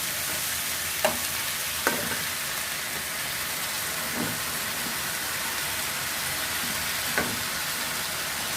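Vegetables and marinated pork being stir-fried in a pan after a splash of water, a constant loud hiss with a few scattered clinks and scrapes of the utensil, no one talking.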